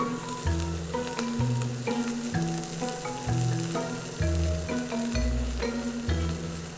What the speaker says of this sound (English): wait for the anchovies to fry. And while doing that, I will put in the prawns.